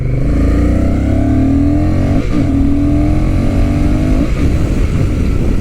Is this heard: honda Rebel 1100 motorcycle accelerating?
yes